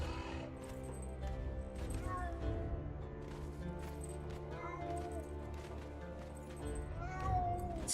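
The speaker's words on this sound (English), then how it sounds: "the cats keep crying" Cats in the game Conan Exiles meow repeatedly, short rising cries scattered over a low steady background, with people talking at times.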